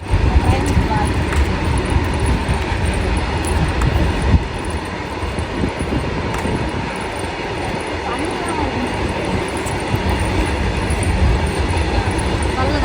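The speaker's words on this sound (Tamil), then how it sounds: "என் பின்னாடி பாருங்க ட்ரெயின் போகுது பாருங்க" A train rumbles steadily past nearby, a continuous heavy roar of wheels and cars lasting throughout, with voices faintly underneath.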